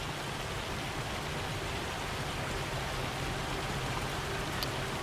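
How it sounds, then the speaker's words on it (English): Hail falls steadily in a farming video game during August, a dense, even hiss of countless small impacts holding at a constant level for the whole stretch, with no voices. "August hail."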